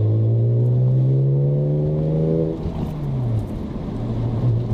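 BMW Z4 M Coupe engine revving hard in a low gear, a loud steady harmonic drone that drops away as the shift into third comes, then picks back up under load, close and alone.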